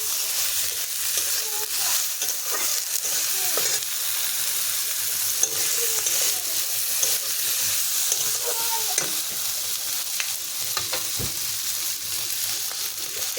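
Okra being fried and stirred in a pan, giving a steady loud sizzle throughout with occasional soft scraping strokes of the spoon close by.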